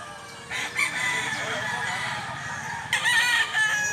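A Japanese bulstag rooster crows twice nearby, with a loud, drawn-out call followed by another shorter crow a few seconds later.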